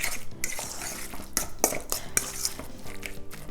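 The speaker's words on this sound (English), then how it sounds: "Okay, mix it all together." A ricotta and spinach cannelloni filling being mixed in a bowl, with a utensil clinking and scraping against the bowl in quick, irregular strokes, close and fairly quiet.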